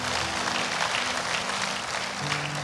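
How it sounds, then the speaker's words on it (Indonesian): A church congregation at a Sunday service claps together in praise of God, a continuous moderate wash of applause with a low sustained musical tone underneath. "Berikan tepuk tangan buat Tuhan."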